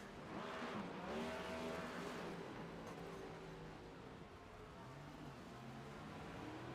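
Race cars on the Milwaukee oval roaring past, engines rising and falling as they sweep by with a brief tire squeal, heard at moderate distance under steady track noise.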